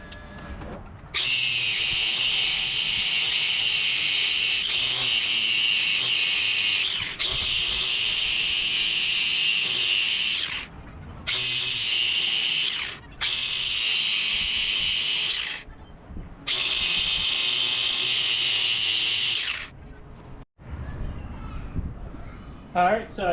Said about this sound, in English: so I got all of those welds ground down